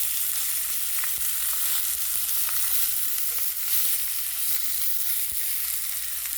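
A steak sears in a hot pan, giving a loud, steady, close sizzle that holds without a break, dotted with scattered sharp pops and crackles.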